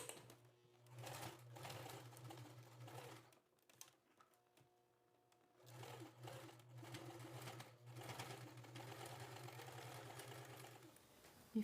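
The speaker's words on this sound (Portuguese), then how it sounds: "E aqui vamos passar uma costura, já prendendo essa parte." Sewing machine running a seam on a travel toiletry bag, steady stitching bursts with a pause in the middle, close and moderately loud with no talking.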